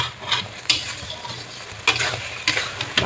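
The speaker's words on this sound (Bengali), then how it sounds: "মাংসের মশলা কষা কষা কষা।" Meat masala frying in a pan, a steady close sizzle with spatula scrapes and stirring clinks recurring every half second or so throughout.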